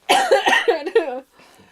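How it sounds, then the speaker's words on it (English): A man gives a short fit of several harsh, rapid, wet coughs close up, ending abruptly, then a faint breathy tail. "Don't make me cough."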